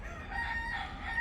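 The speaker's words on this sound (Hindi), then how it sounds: "और यहाँ पे हमने अपनी मुर्गियाँ रखी हुई है।" Chickens and a rooster kept on a farm cluck and call in a short, steady stretch, a faint crow-like tone drifting over low rumbling background noise.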